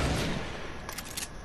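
Rapid gunfire in a shooter video game, dense overlapping shots in a loud burst at the start that tapers, followed by a few sharper cracks, with no talk over it.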